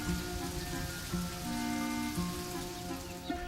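Cartoon rain effect: steady, dense patter of falling rain spread evenly across the whole stretch, with a soft musical tone underneath and no voices.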